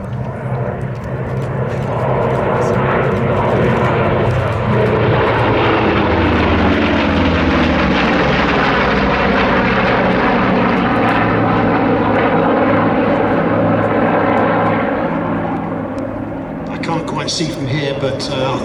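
WWII navy fighters, a Bearcat, a Wildcat and Corsairs, roar past together at an airshow, their piston engines swelling to a loud, sustained drone with a sweeping pitch shift before fading away.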